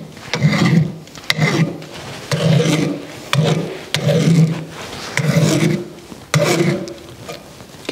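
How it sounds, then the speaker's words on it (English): A hand tool rasps back and forth along a sawn wooden edge in a studio, dressing it smooth in steady rhythmic strokes, each pass a loud scraping rub, heard alone. "I can just dress the edge and smooth out those saw marks."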